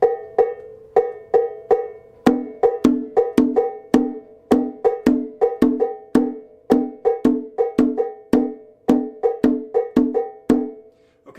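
Hand percussion plays the first drum part of an Abakuá rhythm against clave, sharp bright strikes in a steady repeating pattern of quick, evenly spaced hits, close and alone for about eleven seconds.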